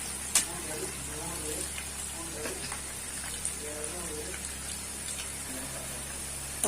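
Spicy potato chips fry in hot oil with a soft, rain-like patter of crackles and pops, with a voice heard in places.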